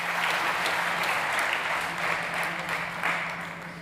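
Audience applause at a startup competition event, a steady dense wash of clapping from a crowd that holds for the whole stretch without talk.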